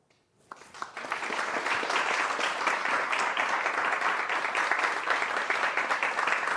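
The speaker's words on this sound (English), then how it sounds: "let's give them applause for welcoming them to join us today on our show" Studio audience applauding to welcome guests on a talk show, a dense, steady burst of many hands clapping that starts abruptly and holds at an even level throughout, with no talk over it.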